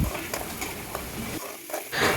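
Oil sizzling and crackling in a pan as two onions fry, a steady hiss broken by brief stirring scrapes, with no talking.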